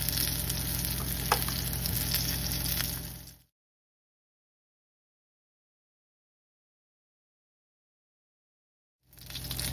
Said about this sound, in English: Okay, so I've seared all of the sides on there.